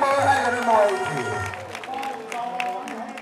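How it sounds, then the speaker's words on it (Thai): Crowd applause and cheering at a Nai Khanom Tom Muay Thai championship bout, a loud burst of clapping mixed with crowd noise and an announcer's voice, fading somewhat after the first second. "ปรบมือให้กันด้วยที"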